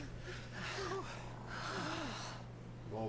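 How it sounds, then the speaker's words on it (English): Dog snoring loudly in a Dragon Quest XI cutscene, a few drawn-out snorting breaths under a steady background hum and music. "While the dog snores just insanely"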